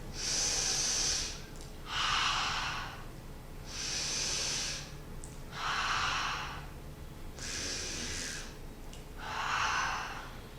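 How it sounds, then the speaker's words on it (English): Three deep yoga breaths, each drawn in through the nose and let out through the mouth, heard as slow alternating hissy inhales and exhales, close and quiet, with no talking. "just will take 3 deep breaths. Inhale through the nose, exhale through the mouth."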